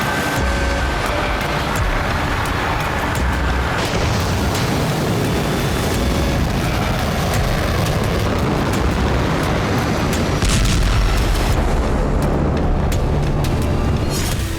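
Russian bombardment in Kharkiv, Ukraine: a dense, continuous roar of rumbling blasts and heavy noise, loud and sustained throughout with no clear gaps and no talking.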